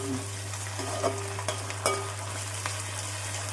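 Onions sizzling in a pan with ginger garlic paste for a prawn and raw mango curry, a steady close frying hiss broken by a few soft scraping taps of stirring, over a low constant hum.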